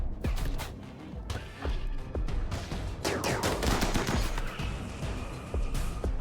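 Rapid gunfire and impacts from a video game battle against the dead, with dense bursts of shots and crashes running continuously and loud throughout, intensifying in the second half.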